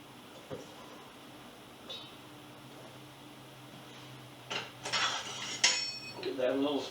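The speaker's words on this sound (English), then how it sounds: "Give that a little stir." Cauliflower is stirred in boiling water in a lidded pot, with faint bubbling, then louder metallic clinks and clatter of the spoon and lid against the pot toward the end.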